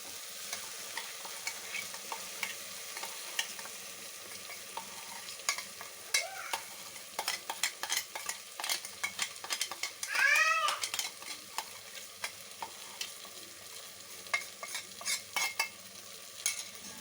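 A ground paste being stirred and fried into a tomato tiffin sambar, with steady soft sizzling under repeated scraping and clattering of a spoon against the pot, plus a few sharp metallic squeaks.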